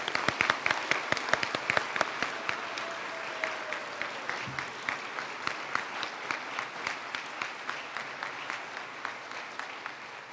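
Steady applause from an audience at a school awards night honoring inductees, the clapping dense at first and thinning into a regular, rhythmic beat as it continues for several seconds, fairly close and loud.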